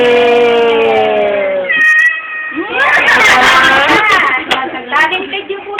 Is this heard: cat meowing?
yes